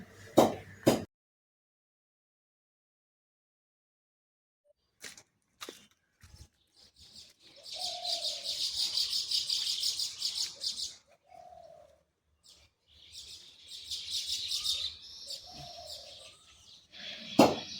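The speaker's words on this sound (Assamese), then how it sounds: "এইয়া কুলি চৰাই কু কু কৰি আছে।" An Asian koel calls a few times at spaced intervals, clear but somewhat distant, over a soft high hiss of insects and other birds, on a morning after a night thunderstorm.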